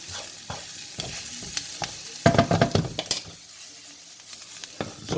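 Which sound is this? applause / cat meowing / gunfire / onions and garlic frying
onions and garlic frying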